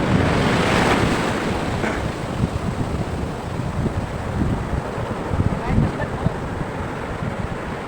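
Ocean surf rolls and crashes continuously with heavy wind buffeting the microphone, a loud, steady roar with a few sharper wave breaks.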